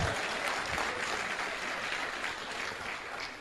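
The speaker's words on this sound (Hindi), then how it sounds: "बजाओ ताली भाई" An audience at an Amway leadership seminar claps in a dense, sustained round of applause that holds steady for the whole stretch, loud and close, with no voices over it.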